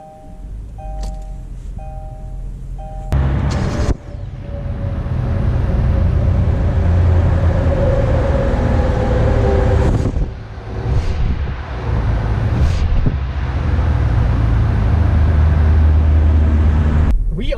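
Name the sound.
2020 Kia Soul car driving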